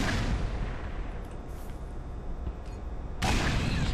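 Grenade blasts in Black Mesa give a continuous heavy rumble of explosions with scattered debris crackle, then a fresh loud burst near the end.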